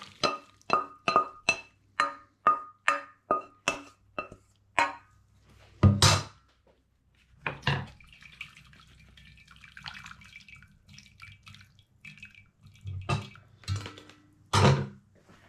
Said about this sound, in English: I'm going to drain that. So I'm just going to put it into a colander.